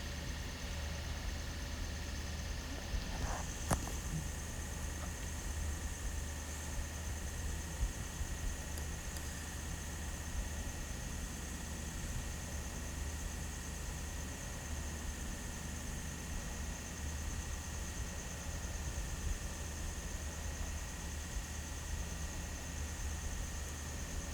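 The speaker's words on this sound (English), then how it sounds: "Now I'm sewing I'm covering the rough edges with a taping" A sewing machine stitches binding tape over the rough edges of a homemade lunch bag, a steady unbroken motor hum that runs close and even throughout with no voices.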